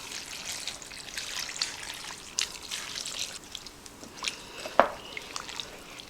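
Broth is poured into a crock pot slow cooker holding potato and ham soup ingredients, making a soft trickling, dripping splash with a few small sharper plops.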